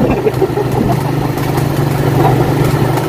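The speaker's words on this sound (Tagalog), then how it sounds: "Nagpiti-piti na ra bagi ang motor." A motorcycle engine runs steadily during a road trip, a loud, close, low droning hum with slight fluctuations and no voices over it.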